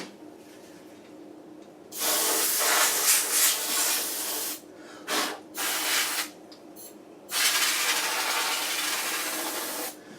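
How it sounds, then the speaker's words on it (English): Compressed air duster can spraying dust out of a PC, loud hissing blasts of varying length with brief gaps and short squirts between longer bursts, close up. "let me get the dust off can"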